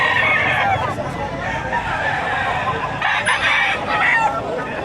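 Roosters crowing and chickens clucking at a livestock auction market in Padre Garcia, Batangas, a busy overlapping chorus of fowl close by with crowd noise underneath.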